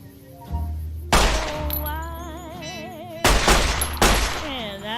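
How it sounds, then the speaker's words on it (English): An anti-materiel rifle in modded Fallout New Vegas fires three heavy, booming shots, widely spaced, each ringing over a background of tonal game music. "See what one of those careless anti-material rifles can do to a death claw?"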